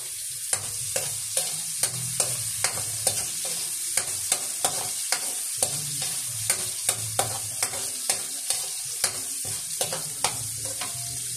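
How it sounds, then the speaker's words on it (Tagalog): Garlic sautés in oil in a pan for a homemade Filipino menudo, with steady close sizzling under regular, rhythmic spatula strokes scraping the pan. The strokes continue throughout, with no speech. "igisa na po natin mga kaguro yung ating bawang"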